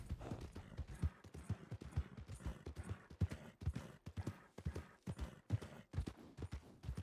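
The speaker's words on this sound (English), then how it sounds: "Yeah, those are wild horses." Wild horses in the video game Calico County RP trot past, a close, steady clip-clop of hooves in an uneven rhythm, fairly faint and heard alone.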